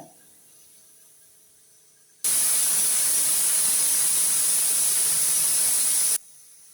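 A pressure cooker of chickpeas simmering on low heat lets out a loud, close, continuous steam hiss lasting about four seconds. The hiss starts abruptly and cuts off sharply, with no voices.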